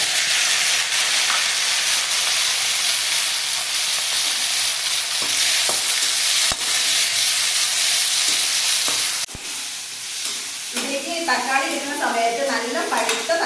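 Tomatoes and browning onions sautéing for tomato chutney, a loud continuous close sizzle with stirring, a couple of sharp utensil knocks, and the hiss easing near the end as a voice talks over it.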